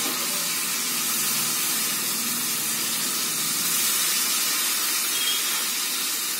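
Water hits a hot pan of prawn bati chorchori and sets off a loud, continuous steamy hiss and sizzle. The hiss holds steady throughout, close up, with no talking.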